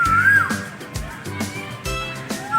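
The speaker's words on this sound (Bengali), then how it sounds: "কোকিলের সাউন্ডটা শুনতে পাচ্ছেন?" A koel, a kind of cuckoo, whistles a rising and falling call at a zoo in Guwahati, clear but set back behind nearby talk and the chatter of children.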